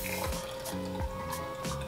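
A cocktail pours into a champagne flute with a light, steady liquid trickle and faint gurgles, up close and alone.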